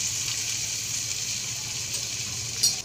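Chicken kebabs shallow frying in a pan give off a steady, close hiss and sizzle of hot oil, holding even and unbroken, with a brief louder crackle near the end.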